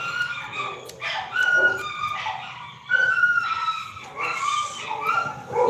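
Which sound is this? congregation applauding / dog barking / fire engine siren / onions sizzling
dog barking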